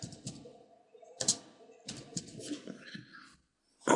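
Keys are tapped out in short bursts on a computer keyboard while a name is entered into a search engine, with clicks clustering in quick runs and a louder cluster at the end.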